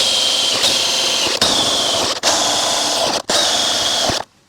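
A power drill fitted with a 5/16 bit drives screws while underbody protection is installed on an RV. Several loud, close, sustained whirring runs are broken by brief stops, then it cuts off into silence.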